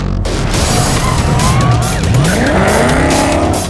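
Ford Mustang engine with a MagnaFlow exhaust in the Need for Speed movie, a loud close roar with screeching tires and sweeping pitch as the car races past, no talk.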